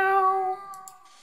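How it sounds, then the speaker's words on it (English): A cat meows in the video game The Last Door, a single drawn-out tonal meow that fades off and ends with a couple of faint clicks. "Meow! Oh, yeah. Kitty. Puss puss."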